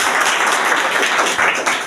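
Loud, dense applause from a gathered crowd at a municipal corporation's retirement felicitation for a security captain, steady and continuous clapping close to the recorder.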